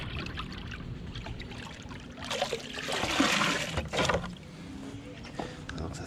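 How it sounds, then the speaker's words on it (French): A bucket is dipped and filled with river water, giving a rushing, gurgling splash that swells in the middle and settles, over a steady outdoor water background. "Avec le seau, on remplit."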